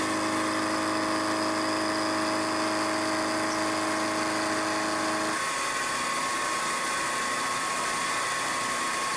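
A machine tool cuts metal for a hydraulic press die for chuck soft jaws, giving a steady whirring drone with tonal whine that shifts pitch midway, continuous and fairly loud with no talking.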